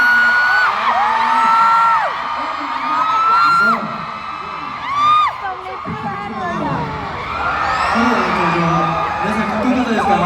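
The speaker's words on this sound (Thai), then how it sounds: "เสียงของทุกคนตอนนี้แบบสุดยอดมากๆเลยครับเสียงกรี๊ดสุดยอด" A concert crowd of fans at a Bangkok show screams in sustained high-pitched shrieks and whoops, loud and continuous throughout with overlapping voices.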